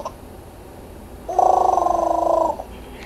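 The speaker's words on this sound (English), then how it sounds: "here's her baby doll, and it makes noise when you push on its belly" A Baby Alive toy baby doll gives a single buzzy, purring cry lasting about a second, close by and fairly loud against quiet room background.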